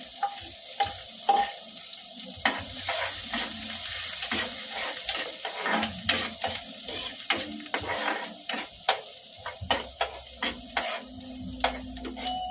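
Chopped garlic sizzles in hot oil in a pan while being stirred for humba, with steady close frying crackle broken by frequent scraping strokes of the spatula.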